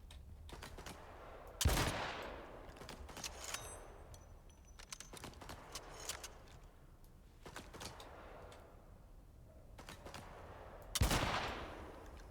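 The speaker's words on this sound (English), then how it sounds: "Something's shooting at me." Gunfire in the survival video game Icarus comes as a few sharp, loud shots spaced several seconds apart over a low ambient background, with faint clicks between them and no talking.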